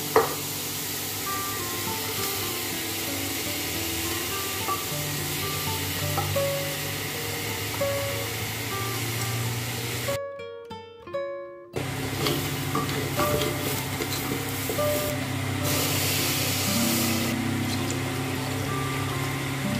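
Rice fries and is stirred in a pan for a kids' lunch, a near, continuous sizzle with stirring scrapes and a brief hush partway through before the frying resumes.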